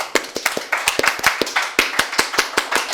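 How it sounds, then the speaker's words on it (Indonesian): Scout-style patterned hand clapping by a group at a police podcast recording, sharp claps in a quick syncopated rhythm, close and loud, with no talking. "Sekali-kali dong tepuknya spesial, tepuk pramuka"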